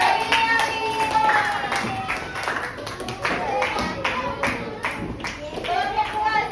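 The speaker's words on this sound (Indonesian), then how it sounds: "Oke, kelompok satu silakan duduk, berikan tepuk tangan." A class applauding group one in a classroom, irregular hand claps and taps mixed with chatter and voices from the students, fairly close and uneven.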